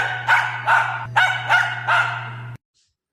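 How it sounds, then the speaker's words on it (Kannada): A dog barks five times in a steady, evenly spaced sequence, each bark close and loud over a low constant hum, then the sound cuts off abruptly into silence. "ಹಾಗಾದರೆ ನಾಯಿ ಬೊಗಳುವ ಶಬ್ದವನ್ನು ನಾವು ಕೇಳೋಣ."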